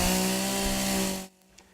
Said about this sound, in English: the sound of chainsaws will be roaring in Columbus this morning